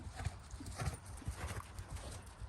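A horse canters on an arena track, its hoofbeats a faint, rhythmic three-beat thudding at a distance.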